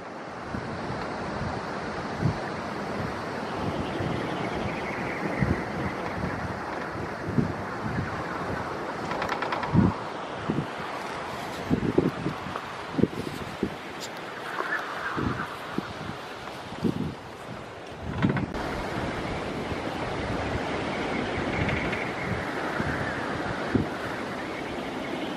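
Strong stormy wind buffets the microphone around a wind turbine that is trying to furl, a steady roaring rush with repeated gusty thumps and surges lasting throughout, no speech.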